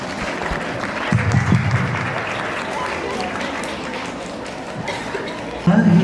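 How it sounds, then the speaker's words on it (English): A school audience applauds at a Republic Day event, a steady, dense round of clapping from a large crowd that swells at the start and again at the end, with some voices mixed in. "Please encourage him with a round of applause."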